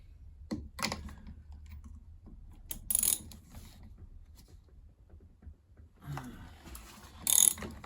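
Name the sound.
ratchet with 14mm socket loosening a bolt on a Samsung tumble dryer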